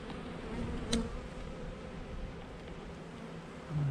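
Honey bees from newly installed packages buzz steadily and close up around an open hive, a dense continuous drone with brief louder passes as individual bees fly near.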